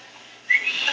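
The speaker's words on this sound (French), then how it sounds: "OK, solo de sifflement." Solo human whistling comes in abruptly about halfway through, bright sustained high notes that are close and fairly loud, with near silence before it.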